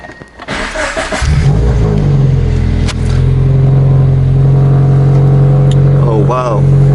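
A Subaru BRZ fitted with a custom equal length header starts up and settles into a loud, steady idle, then blips the throttle in short revs near the end, with a voice talking at the start.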